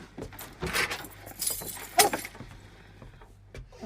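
A bunch of keys jangles close by in a few short shakes and clinks, with quieter rustling between them and no talk over it.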